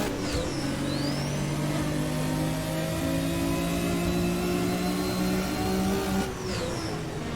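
A car in the Assetto Corsa racing game accelerates hard with turbo, its engine droning loud and steady as it climbs through the revs, with a faint whistle at the start and again at the end.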